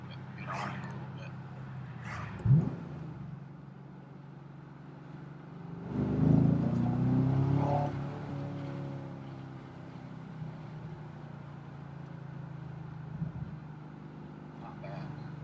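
A 2011 Chevrolet Camaro SS V8 revs and accelerates, its engine rising in a loud surge midway with a few sharp pops of backfire heard from inside the car, with quieter cabin drone before and after.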